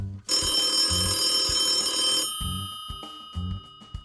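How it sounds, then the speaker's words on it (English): Many office telephones ring at once in a loud, dense, continuous clamour for about two seconds, then cut off, leaving scattered light knocks and thumps. "I stepped into the office where the large number of phones kept ringing."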